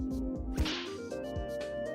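A sharp whip crack sound effect from a video game mod strikes once over soft, sustained background music, brief and fairly quiet.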